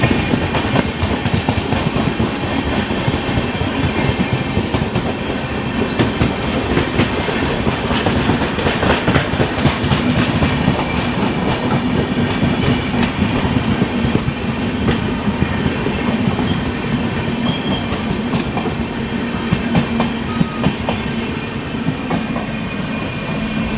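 The Hyderabad–Chennai Express runs steadily on the rails, a loud, continuous rumble with rhythmic clickety-clack from the wheels over the joints, heard close and without pause or voices.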